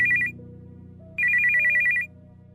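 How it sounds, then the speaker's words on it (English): Telephone ringing sound effect: two loud, clear electronic ring bursts separated by a short pause, each a rapid trilling tone, over a quiet low background hum. "when the phone rang."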